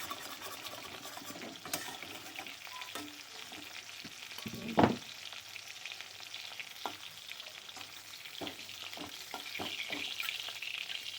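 Fish fry in oil with a quiet, continuous crackling sizzle, broken by a few sharp utensil clinks and one louder clatter near the middle.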